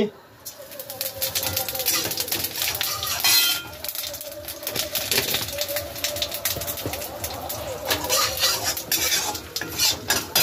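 Bay leaf and cumin seeds crackle as they are tempered in hot oil, making a dense close sizzle broken by repeated clattering stirs of a utensil against the pot.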